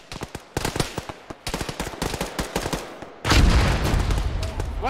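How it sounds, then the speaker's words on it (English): A frag grenade goes off with a loud, broad blast in ShackTac Arma after a run of rapid rifle shots, the explosion rumbling and sustaining for over a second. "Wow, that was a loud frag."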